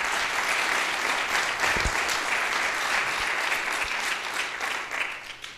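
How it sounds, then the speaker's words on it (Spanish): A conference audience at a Spanish internet technology forum applauds the speakers, a steady, full round of clapping that fades slightly toward the end, with no talk. "vamos a darle un aplauso ahora por agradecerles por estar aquí"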